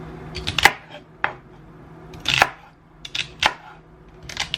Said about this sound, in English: we're going to add in some celery. Just cutting off some stalks here.